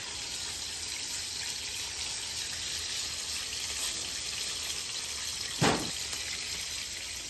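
Butter sizzles on a hot flat top griddle with a steady, even crackling hiss throughout and one brief louder scrape or sputter near the end.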